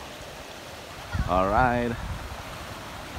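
Steady rushing of a river in Rizal flows throughout, with someone speaking briefly over the water near the middle.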